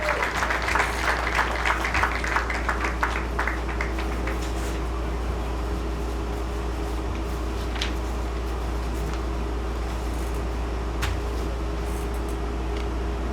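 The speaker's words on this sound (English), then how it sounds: "Let's give a big round of applause for all these athletes" Applause for high school athletes at an athletic awards ceremony, a crowd clapping briskly at first and then fading to scattered claps over a steady low room hum.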